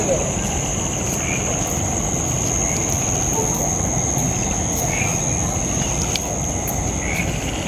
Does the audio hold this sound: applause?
no